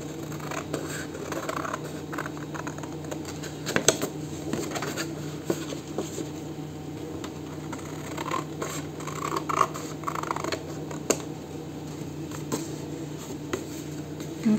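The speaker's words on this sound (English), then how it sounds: "I'm just going to cut this flap" Scissors snip through a craft paper flap in close, steady cuts, a quiet run of crisp clicks and rustles with no speech.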